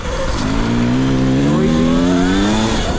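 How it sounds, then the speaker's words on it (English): Gas-powered dirt bike engines on woodland trails drone close and loud, one steady tone rising and falling slightly as the bikes ride, with a second engine audible beneath. "Riding a few gas bikes today."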